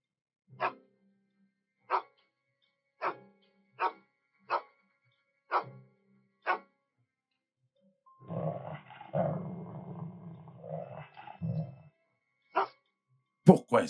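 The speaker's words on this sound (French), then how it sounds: "Pourquoi est-ce que Scott aboie?" A dog barks in short, evenly spaced single barks, then breaks into a longer stretch of rumbling growls mixed with further barks, fairly close and clear in an otherwise quiet indoor setting.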